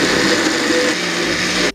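A blender purees cauliflower cheddar soup with a steady, loud whirring roar that holds for under two seconds and then cuts off abruptly.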